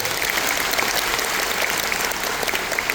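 Applause from the audience at a memorial concert, a dense, steady wash of many hands clapping, loud and continuous throughout with no speech over it.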